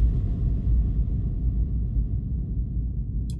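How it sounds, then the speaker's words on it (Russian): FX kick drum sample drowned in very heavy reverb, a deep, continuous, rumbling low wash that fades slowly over a few seconds, with a faint brief tick at the very end. "звук кика под большим-большим ревером"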